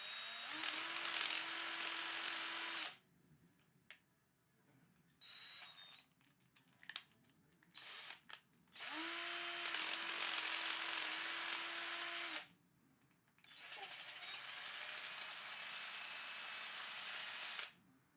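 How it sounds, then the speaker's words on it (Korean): Power drill boring a hole in a steel plate while building a PC from a spare Xeon CPU: two long loud whining drill runs with a steady pitch, separated by quieter handling clicks and knocks, then a third sustained run. "요거는 이 철판에 구멍을 이 드릴로 뚫어가지고 넓혀줘야 될 것 같아요"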